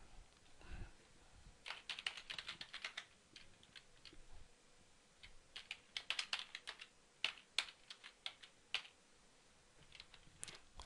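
Someone types a password on a computer keyboard, giving quick irregular bursts of close, crisp key clicks with short pauses between them over a quiet room.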